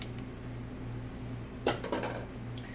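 Spatulas chopping steak on a hot griddle: a few quick metallic scrapes and clacks midway over a steady sizzling, humming background.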